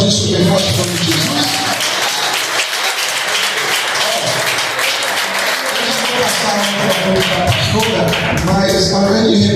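A church congregation applauding strongly, a dense steady burst of clapping from many people indoors, with voices and music mixed underneath throughout.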